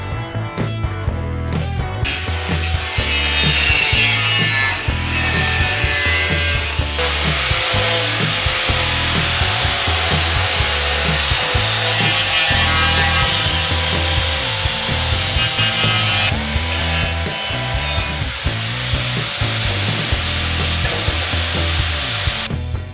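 A metal beam extension for a car frame being cut with a power saw, producing a loud, continuous rhythmic sawing grind close up with bright metallic ringing, steady for over twenty seconds.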